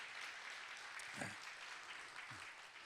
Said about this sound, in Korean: 한번 박수로 우리 환영해 주시기 바랍니다